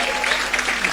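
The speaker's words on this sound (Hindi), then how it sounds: "लेकिन चरखारी के श्रोताओं आप तालियां बजा सकते हो" Audience applause at a Hindi comedy poetry gathering (kavi sammelan) in Charkhari, a short dense burst of clapping from a crowd with no voices over it.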